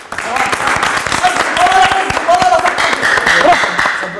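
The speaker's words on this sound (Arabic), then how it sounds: "صفقوا." An audience applauds in a lively, sustained burst of dense clapping, heard up close with voices mixed in.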